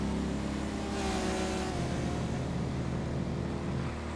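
Fast cars speeding past in a GTA FiveM race, a loud engine roar and whoosh that swells near the start and then carries on as a steady drone.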